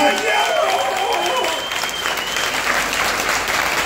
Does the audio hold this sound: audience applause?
yes